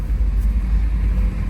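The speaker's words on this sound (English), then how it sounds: "the idle's really nice and smooth" A car with 147,000 miles on it idles smoothly, giving a steady, even low rumble that holds unchanged throughout with no voices.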